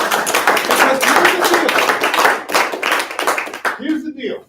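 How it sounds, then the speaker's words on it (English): A group claps for a colleague during a team bullpen session, dense and steady applause close by that keeps going for several seconds before stopping abruptly. "let's give him a round of applause."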